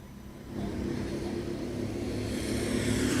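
Racing karts at the KWC 2022 round 3 race driving past on the track, a steady buzzing engine drone that swells louder as they approach, no voices.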